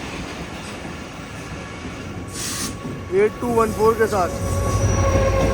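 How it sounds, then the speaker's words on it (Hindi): A train rumbles and clatters on the loop line at Jhimpir railway station beside the Karachi Relief train, with steady rolling noise and a rising rumble near the end, while someone speaks over it. "तो कराची रिलीफ ट्रेन यहाँ पर मौजूद है झम्पी रेलवे स्टेशन की लूप लाइन पर"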